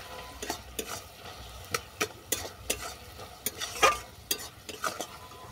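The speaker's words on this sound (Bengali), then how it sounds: "এটা ভালো করে মিশিয়ে নেব।" A spoon stirs dry-roasted ground spice into apple chutney with lemon juice in a hot pan, making a soft sizzle under repeated light scraping taps at a steady rhythm, fairly quiet and close.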